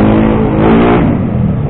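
A car overtakes on a road, its engine revving loud and steady throughout, close by with a rising and falling roar.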